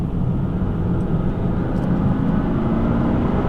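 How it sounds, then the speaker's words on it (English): Porsche Cayenne Turbo engine droning under steady driving, a continuous loud low rumble with faint turbo spool from inside the cabin. "You hear a little bit of turbo spool there."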